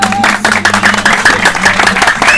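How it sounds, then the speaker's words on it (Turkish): A school spring festival crowd claps together, brisk close applause with a few whistles or cheers riding on top, continuous and loud across the moment. "Bir alkış alabilir miyiz?"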